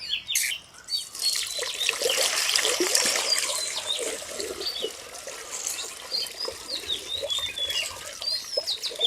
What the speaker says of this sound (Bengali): দেখেন কচু শাকটা ধুইয়া নিব